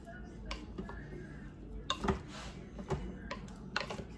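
Cut-up Velveeta cheese being stirred in a pot, with soft scraping and clinks of a utensil against the pot coming in a few brief bursts against a quiet room background.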